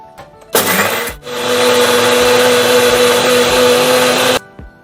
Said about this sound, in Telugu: ఇప్పుడు మిక్సీ పడతానండి.